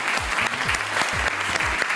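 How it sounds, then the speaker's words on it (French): Brief burst of dense audience applause at a televised talent show as a contestant takes the stage, with low musical tones sweeping underneath. "Un tonnerre d'applaudissements pour Sarah."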